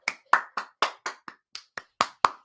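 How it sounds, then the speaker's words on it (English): A person clapping their hands, about eleven sharp, separate claps at a steady, slightly uneven pace, close and fairly loud, with no voices. "Have you tried clapping?"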